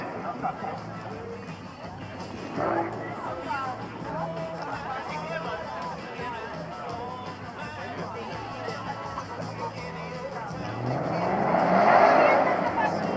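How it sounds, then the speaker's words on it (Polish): A Ford Mustang engine revs and roars at a race start at a Mustang meet in Żnin, Poland, swelling louder near the end, with a crowd and a voice talking over it. "kolejny złowrogo spoglądający Mustang na starcie"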